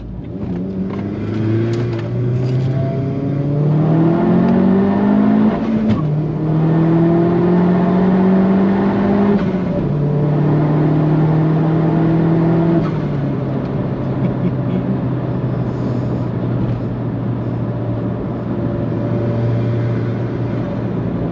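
A Vauxhall Astra VXR fitted with a Klasen GenX exhaust manifold, lapping the Nürburgring: a loud engine drone that climbs repeatedly through the gears with rising whine, then settles into a steady, hard-running hum.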